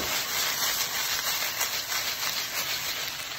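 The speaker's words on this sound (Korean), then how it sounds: "남은 기름에 파를 볶고 대충 파볶음밥을 한번 만들어 봅니다" Green onions stir-frying in leftover oil give off a steady, dense sizzling hiss that holds evenly throughout, close and moderately loud with no voices.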